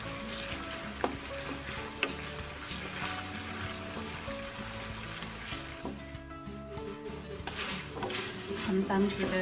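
Potatoes frying in cooking oil until crisp, a steady close sizzle and crackle running throughout with a few sharp pops near the start and some stirring.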